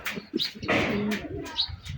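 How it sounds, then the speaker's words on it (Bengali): A king pigeon on a rooftop coos loudly and close in a few deep, throaty bursts, with other faint bird sounds around it. "ডাকাটাকেই ভালো করে অনেক জোরে আওয়াজ হয় এই পায়রাটা"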